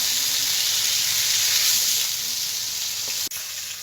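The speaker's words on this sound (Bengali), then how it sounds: "এভাবে আস্তে আস্তে উল্টে পাল্টে আমি সব কপিগুলোকে ভেজে নেব।" Cauliflower pieces fry in hot oil in a pan, giving a loud, steady sizzle with no break, then one sharp clack near the end as they are turned.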